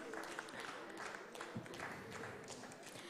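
A conference audience claps for a lucky draw winner, a soft, steady patter of many hands that runs through the whole stretch with a faint murmur of voices underneath.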